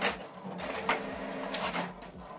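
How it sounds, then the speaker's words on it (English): An HP Deskjet 4310 printer running off a document, with repeated whirring carriage passes and brief mechanical clicks at close range, steady throughout with no talk. "This document is printing."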